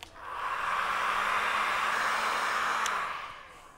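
A hair dryer-like blower dries a BMW Alpina B7 seat after an alcohol wipe, a single steady whoosh lasting about three seconds that swells up and fades out, close by.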